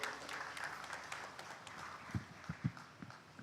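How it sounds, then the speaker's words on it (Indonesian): Applause from a crowd at a formal government gathering in Gresik, faint and distant, with a few sharper, closer claps standing out toward the end. "tepuk tangan untuk beliau-beliaunya"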